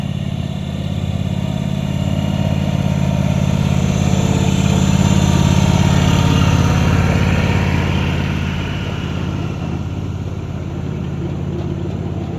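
A live steam miniature locomotive runs at an Adirondack Live Steamers club track, giving a steady, close, loud mechanical rumble with a constant low drone that swells slightly mid-way and holds throughout, with no talking.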